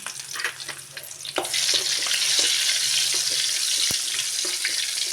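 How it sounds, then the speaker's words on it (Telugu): Chopped onion drops into hot oil in a village-style home kitchen. A loud, steady frying sizzle swells and holds, with a few light clinks and stirring sounds early on and no talking. "నూనె అయితే వేడైపోయింది. ముందైతే ఉల్లిపాయ వేసుకుంటున్నాను."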